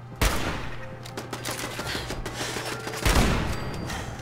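Two loud, sharp sniper rifle shots in Fallout 4, the first near the start and the second about three seconds later, each a hard crack with ringing tail, over continuous game ambience with no talk.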